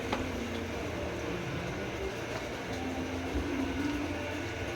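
A DC 24V motor drives a centrifugal water pump that lifts water about 3 metres. It makes a steady, loud mechanical whir and rumble that continues unbroken throughout, with no talking.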